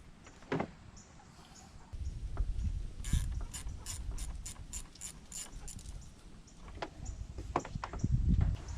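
Wrench disconnecting the battery on a Nissan Rogue, with a quick run of ratcheting clicks in the middle, plus scattered metallic taps and handling noises, close up and fairly quiet.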